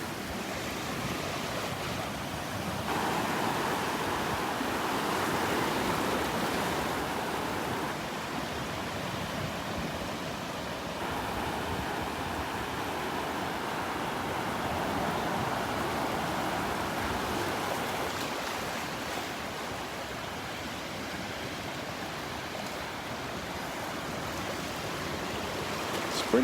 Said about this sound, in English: I'm just loving the sounds of these waves.